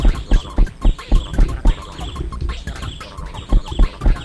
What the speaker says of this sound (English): Birds. With a quacking duck in the background, it sounds like.